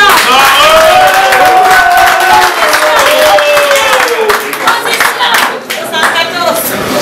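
An audience at a club show claps loudly and continuously, with crowd noise and a few cheers, while a performer's voice carries prominently over the clapping.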